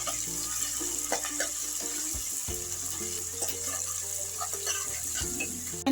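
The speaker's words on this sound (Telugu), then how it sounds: "కొంచెం పుదీనా ఇలా కొన్ని నిమిషాలు ఫ్రై చేసుకోవాలి" Mint leaves frying in a pan for a home-cooked mixed vegetable curry, a soft continuous sizzle with occasional stirring and scraping sounds close by.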